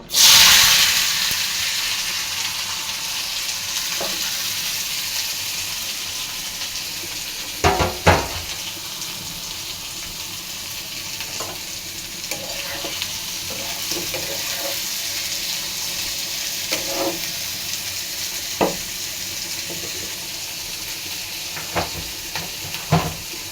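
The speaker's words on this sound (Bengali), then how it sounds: "তেলটা গরম হয়ে গিয়েছে, আমি পেঁয়াজগুলো দিয়ে দিব।" Onions fry in hot oil in a kadai, giving a constant close hiss and crackle for over twenty seconds, broken now and then by a few sharp utensil knocks, with no voices.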